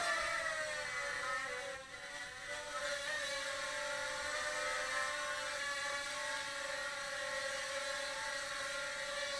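Cheerson Flying Egg (SH 6057) quadcopter motors whirring at full throttle in flight, a steady high-pitched buzzing drone with shifting tonal lines that dips briefly then holds loud and close throughout.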